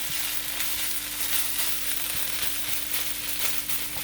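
Chicken fried rice sizzles steadily in a hot pan as egg is stirred in, a constant frying hiss with occasional soft scrapes and clicks, fairly quiet and with no talk.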